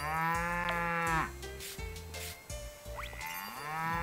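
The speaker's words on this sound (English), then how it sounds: "Come get this cow, this big cutie right here." A cow on the farm in Story of Seasons: Pioneers of Olive Town, mooing in several loud, close calls of different pitch and length, some low and some rising, with no speech.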